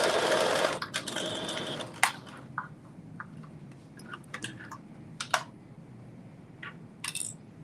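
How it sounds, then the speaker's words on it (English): A home sewing machine runs a basting stitch around the armhole of a thin-fabric cropped bodice. One loud burst of stitching opens, followed by scattered clicks and taps as the fabric is handled. "I'm doing a basting stitch all the way around the armhole, just to keep those two pieces of fabric together"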